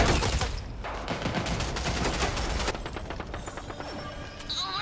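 Rapid, continuous bursts of automatic gunfire from the video game Rogue Company, loud and dense with overlapping shots that carry on throughout with no speech.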